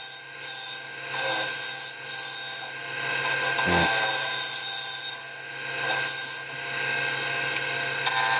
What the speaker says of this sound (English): Just finishing up with the scraper again.